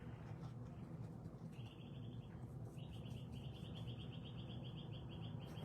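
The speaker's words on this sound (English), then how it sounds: "It's a little bird outside my window here." A small bird chirps outside a window in a quiet room, with a run of short, faint, repeated tweets starting partway through and continuing against a low steady background hum.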